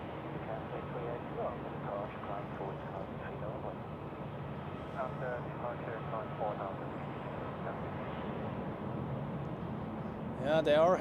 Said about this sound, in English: this livery suits the A350 very well. Going to the northern side of Dock E as it looks